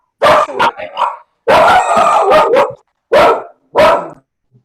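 Several dogs bark in loud, close bursts, a rapid run of barks and yips followed by two separate single barks, with brief silences between them.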